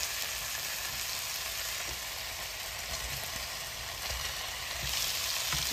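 Chicken and fried potatoes sizzle steadily in a hot pan, a continuous bright crackling hiss with occasional stirring scrapes and no talk.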